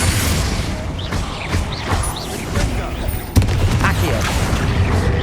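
A Confringo blasting spell explodes in the Hogwarts Legacy video game: one sudden, loud blast cuts in midway through dense, continuous combat noise.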